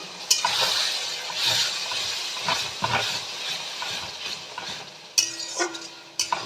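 Ginger, garlic and green chili paste with tomato sautéing in a pan for mutton curry, a hissing sizzle under repeated scraping stirs and sharp utensil knocks close by.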